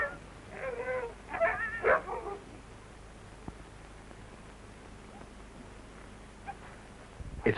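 Sled huskies at an Antarctic base bark and whimper in a short burst of yips and whines near the start, then fade into quiet background hiss with one more faint yelp near the end.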